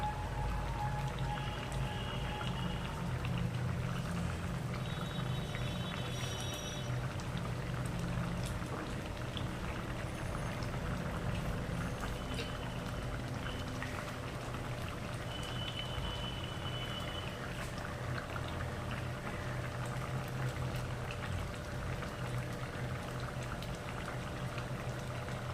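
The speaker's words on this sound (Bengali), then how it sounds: "এবার আমরা এর মধ্যে দিয়ে দেব কটি চেরা কাঁচা লঙ্কা এবং কাঁচা সর্ষের তেল।" Slit green chillies and raw mustard oil go into a simmering hilsa and mustard curry with eggplant, giving a steady close bubbling and sizzling that runs throughout with no talk.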